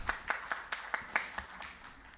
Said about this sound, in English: Professor Dr. Sami J. Khan, a huge round of applause.